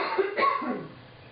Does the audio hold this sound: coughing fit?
yes